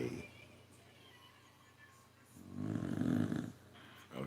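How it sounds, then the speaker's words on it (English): Large dogs snore close by, soft steady breathing rising into a louder rasping snore before easing off again, with a person's voice faintly present. "Snoring giants laying up under me."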